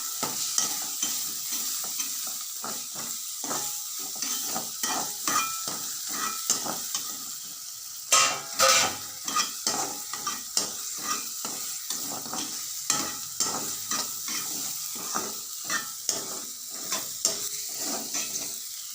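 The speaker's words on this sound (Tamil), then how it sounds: "பூண்டு ஒரு நாலஞ்சு பல் இஞ்சி ஒரு சின்ன துண்டு போட்டு வதக்கணும்" Onion, ginger and garlic sautéing in a pan, with a continuous sizzle and steady rhythmic scraping of a spoon stirring against the pan, close and fairly quiet.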